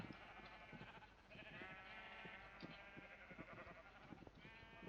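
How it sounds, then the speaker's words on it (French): Sheep in a block-building video game bleat repeatedly, several wavering cries overlapping against soft background noise, close and clear with no talking. "il y a un mouton qui veut monter, profiter de la vue"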